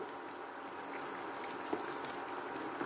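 Water boiling in a gas-heated pot for cooking snake gourd with mung beans, a faint, steady bubbling hiss with a few small pops, continuous and soft.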